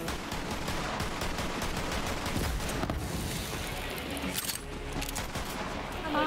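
Sustained gunfire in Borderlands 3 co-op play, a busy crackling stream of shots and impacts with a few brighter bursts near the end, loud and continuous with little speech.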